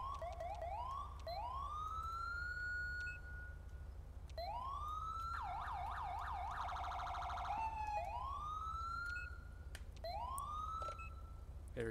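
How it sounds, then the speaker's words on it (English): Police car siren in the video game GTA V (LSPDFR), cycling through rising wail tones and a fast yelp section, steady and continuous over a low engine drone, no talking. "these are our sirens that we're gonna be using today"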